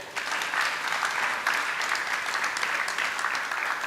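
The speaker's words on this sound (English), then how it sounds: "Kindly clap again." An audience at a conference applauds in a steady, even wash of many hands clapping at moderate distance, continuous throughout.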